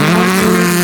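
A Honda drag racing car launches at Saldanha Drags, its engine a loud, sustained close-up roar with a steady high-revving drone.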